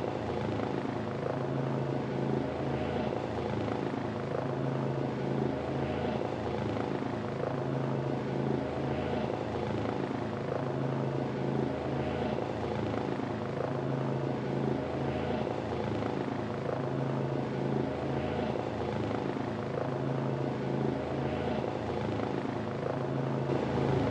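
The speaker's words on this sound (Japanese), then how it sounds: "捕虜を乗せたヘリは戦闘ヘリを引き連れて離陸" Steady rotor thrum of helicopters lifting off in the video game Front Mission 2nd Remake, a continuous dense whir with a low pulsing hum, loud and unbroken throughout with no talk.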